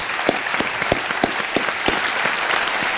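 Studio audience applause on the set of the Hindi quiz show Kaun Banega Crorepati, loud and sustained with many hands clapping together and sharp individual claps standing out, carrying on unbroken with no talking.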